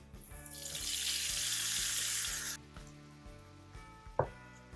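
Orange juice pours into hot fat left from frying pike, with a loud hissing sizzle for a couple of seconds, then settles into quieter crackling with a soft clink near the end.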